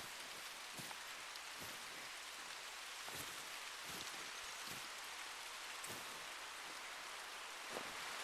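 Steady rain in the video game theHunter: Call of the Wild hisses continuously, with scattered louder drops and taps landing now and then, an even wash of noise with no voices.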